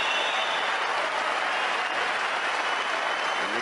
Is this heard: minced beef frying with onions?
no